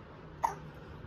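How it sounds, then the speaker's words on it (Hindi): A single sharp hiccup from a young child, brief and close, is set against a quiet room at home. "इतनी हिचकी क्यों आ गई आज"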